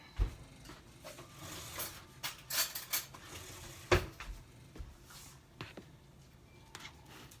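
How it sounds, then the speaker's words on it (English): A metal spoon stirs hot creamy potato soup in a pot, giving a few faint, scattered clinks and scrapes against a quiet background. "Let me get a spoon and stir it a little bit."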